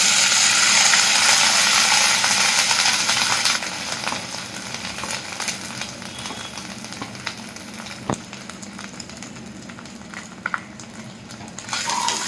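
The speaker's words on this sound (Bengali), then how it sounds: "এবার নারকেলটা আমি এই তেলের মধ্যে একটু ভেজে নেব" Shredded coconut frying in hot oil with whole cumin and dried chilli on a low flame gives a steady, close sizzle, loud at first and then softer and crackly, with occasional small pops and no talking.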